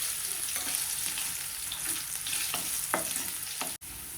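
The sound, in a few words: potatoes sautéing in oil with spices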